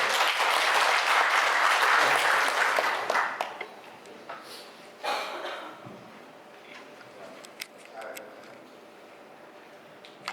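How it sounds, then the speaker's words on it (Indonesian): An audience at a parish church work meeting breaks into loud applause that swells for about three seconds, then fades into scattered claps and murmuring voices. "Berikan tepuk tangan"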